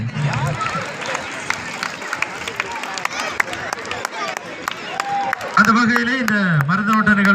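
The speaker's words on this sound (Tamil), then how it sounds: "இங்கே உங்கள் கரகோஷங்கள்" Crowd clapping for a young prize winner receiving his awards at a cultural sports event in Kaluthavalai, 2025; scattered claps patter beneath a loud announcer's voice that talks throughout.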